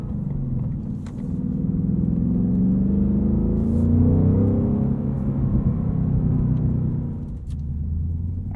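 A 2022 Ford Mustang Mach 1 with manual gearbox rumbles steadily while driving, a close, deep continuous engine drone that builds slightly mid-way and eases near the end, heard alone without talk.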